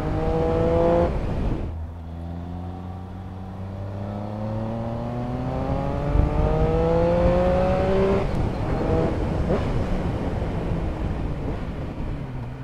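A Triumph Speed Triple RS motorcycle accelerates hard on cold tires, its engine note climbing through gears in rising sweeps with quick shift breaks, ridden close up under heavy wind rush.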